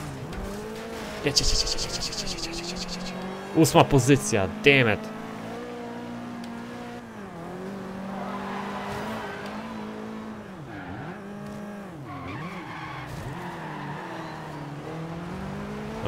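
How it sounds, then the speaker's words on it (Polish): A car in the racing game Forza Horizon 2 revs and skids through a turn, tyres squealing in bursts over a steady engine drone, while a player talks over the game sound. "To jest masakra, że ten samochód wpada w poślizg na takim zakręcie."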